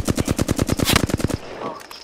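Rapid automatic gunfire from the Apex Legends video game rattles out about a dozen loud, evenly spaced shots in a quick burst, then cuts off into a quieter tail.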